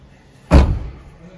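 A single solid car door slam, close and loud, with a short low thud that quickly fades.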